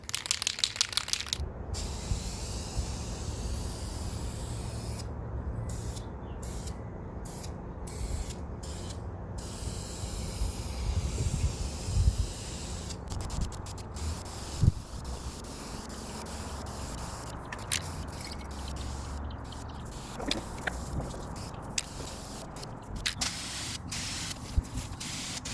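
Spray paint hisses onto Jeep YJ doors for a second coat, a continuous close aerosol spray with frequent short breaks and faint clicks as the nozzle is released and pressed again.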